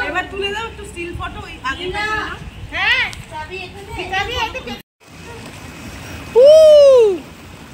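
People splashing about in a resort swimming pool in Tajpur, lively water sounds mixed with loud, excited voices of children and adults, ending with a high, sustained shriek.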